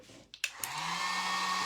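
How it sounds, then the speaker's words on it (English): A small handheld craft heat dryer switches on after a few clicks and blows with a steady, close, airy whir over a painted wooden Santa Claus piece, with no talking. "we'll hit this with the dryer one more time."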